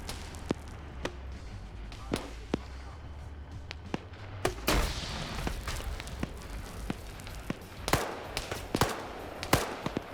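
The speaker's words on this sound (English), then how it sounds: "Now we got autocannon fire." Autocannon fire from vehicles in a video game battle: sharp, irregular bursts of shots crack out near and far, scattered across a noisy background of combat rumble and debris.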